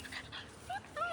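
Several puppies whimper and yip in short, high, rising cries, close by and fairly loud, with faint human talk underneath.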